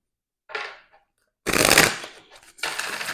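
A deck of tarot cards is shuffled in three quick riffling bursts close to the microphone, each a crisp rapid flutter separated by brief pauses.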